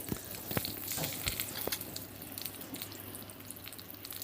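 Onions frying in oil crackle and sizzle close by, with a few sharp pops and clicks early on that settle into a softer steady hiss.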